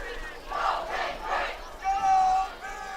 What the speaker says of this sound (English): And the student section pretty loud as Lander comes out for 2nd and 8